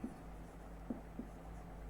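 Pen or pencil writing out the steps of a geometry construction, a few faint scratchy strokes against a low steady background hum.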